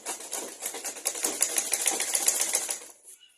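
A sewing machine stitches kimono fabric in a quick, even mechanical whir with rapid ticking, steady for about three seconds and then stopping.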